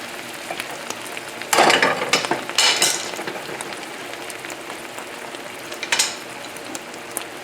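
Chicken thighs and peppers in a cream sauce sizzle hard over a high flame, a steady frying hiss broken by a few louder bursts of stirring and utensil scrapes, with no talking.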